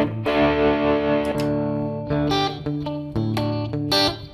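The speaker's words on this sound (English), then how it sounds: "A little bit of reverb, a little bit of spring." Distorted electric guitar through a Mooer GE250 multi-effects unit with spring reverb and a Twin-style amp model, played as ringing sustained chords with a few quick strummed accents, loud and close with no talking.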